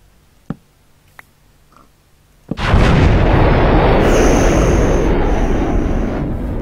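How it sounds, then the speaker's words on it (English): A missile explosion in the video game Voltz: after a few faint clicks, a sudden loud blast erupts into a sustained roaring rumble that holds for several seconds with a high whine layered on top. "Oh, I heard an explosion."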